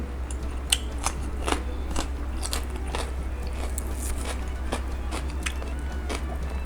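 Soft fermented pork bone is chewed close up, giving a run of crisp crunches and snaps in an irregular rhythm over a steady low hum.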